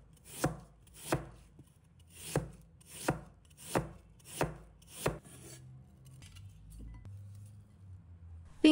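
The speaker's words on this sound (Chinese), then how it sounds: "一半沙格切成均匀薄片，薄厚一致" A knife cuts jicama into thin, even slices on a cutting board, seven crisp evenly spaced chops up close, then quiet shuffling and a faint clink.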